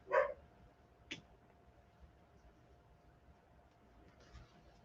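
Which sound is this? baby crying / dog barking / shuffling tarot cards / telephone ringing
dog barking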